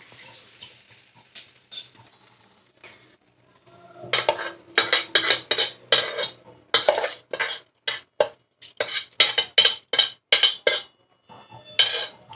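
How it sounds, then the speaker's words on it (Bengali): Washed mung dal tipped into a cooking pot and stirred, giving a quick run of close metallic scrapes and clinks of spoon on pot after a quieter start, with bursts of rattling stirring strokes. "সুন্দর করে ধোয়া মুগ ডাল আমি এর মধ্যে দিয়ে দেব।"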